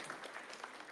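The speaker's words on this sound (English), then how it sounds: "let's give him a round of applause to sit off." Audience applause at a hackathon opening ceremony in San Francisco, a brief steady wash of many hands clapping together, moderately faint and heard from within the room.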